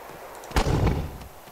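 A single sharp gunshot from the video game Arma II: Operation Arrowhead, set in mountain warfare, cracks once with a thumping body and a brief rumbling tail over faint background noise.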